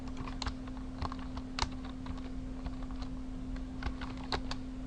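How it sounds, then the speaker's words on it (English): Someone types on a computer keyboard, soft irregular key clicks in quick bursts over a faint steady electrical hum, quiet and close, with no talking. "I'll type in Monday"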